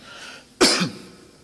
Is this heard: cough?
yes